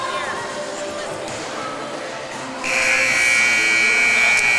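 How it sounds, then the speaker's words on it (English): A loud, steady electronic buzzer ends the warm-up at a volleyball game. It cuts in over gym crowd noise and holds its tone to the end. "there goes the final buzzer of the warm-up"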